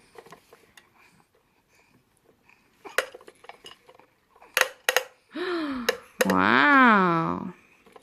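A baby plays with a saucer, making scattered light clinks and taps, a few sharper knocks, while an adult speaks warmly nearby and a baby's voice babbles loudly toward the end.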